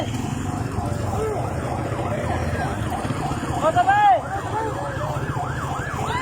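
A police car siren wails in repeated rising and falling sweeps over a bed of crowd noise and traffic rumble, with people shouting nearby.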